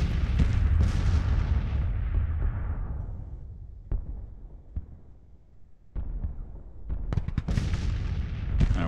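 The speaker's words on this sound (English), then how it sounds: "Artillery's starting to rack up some kills." Artillery fire from a Civil War battle in the strategy game Grand Tactician: Civil War, heavy rumbling booms that fade out, then a few sharp distant reports and a fresh burst of cannon fire near the end, with no talking.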